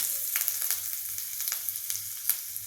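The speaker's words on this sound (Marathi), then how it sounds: "आता मी थालीपीठात मिरच्या टाकायचं विसरली होती मग मी फक्त याच्यात दोन मिरच्या टाकते फोडण्यासाठी" Two green chillies crackling in hot oil with mustard seeds and asafoetida for a tempering, a steady close sizzle with scattered sharp pops and spits throughout.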